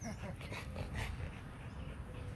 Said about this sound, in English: He could be woofing though.